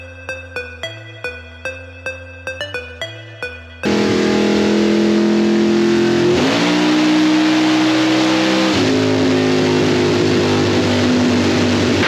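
A car on a dyno starts with a series of rhythmic cranking or pulsing bursts, then roars into a loud sustained pull, its engine pitch climbing, dipping and rising again close by without any talk.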